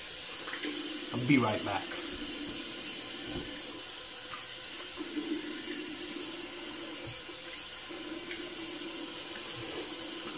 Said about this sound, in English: Let's do a cold rinse.